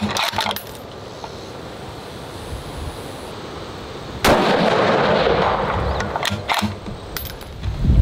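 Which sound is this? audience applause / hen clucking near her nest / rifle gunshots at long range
rifle gunshots at long range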